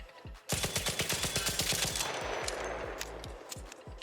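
Rapid automatic gunfire from a rifle fitted with an Angled Grip in the ARC Raiders video game, a loud sustained burst of closely spaced shots that trails into a few slower, separate shots near the end.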